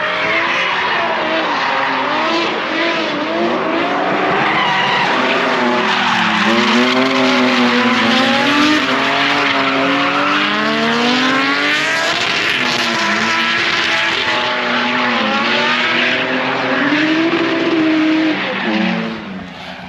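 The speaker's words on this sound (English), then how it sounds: "here's Ross Ogilvie, everybody sending it in his BMW" A BMW drift car slides across a drift pan at a raceway, its engine wailing and rising and falling through gear changes while tyres squeal steadily, loud and close for the whole stretch without any talk.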